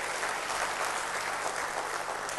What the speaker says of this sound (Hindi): मैं चाहूंगा सभी इनके लिए बहुत प्यार से तालियां जरूर जरूर बजाइए।